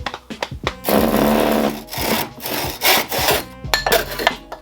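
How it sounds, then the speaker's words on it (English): A handsaw cuts through a balsa wood dowel in a cluttered home garage, giving loud rasping back-and-forth strokes in an irregular rhythm with short pauses between bursts, close to the listener and with no talking. "This is cutting really easy because apparently I went with the balsa wood"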